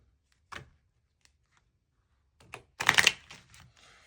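A deck of tarot cards is shuffled, heard as a few isolated riffles and taps and then a denser papery burst of shuffling, close to the microphone in a quiet room.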